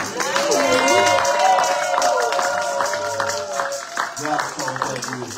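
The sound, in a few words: church congregation applauding and cheering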